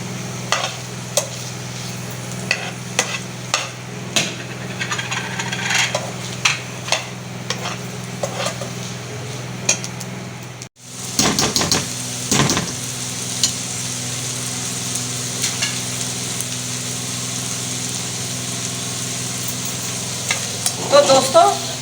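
Chicken sizzles and fries in a pan for an omelette, with steady crackling and occasional stirring scrapes, a brief pause midway, then continued close frying.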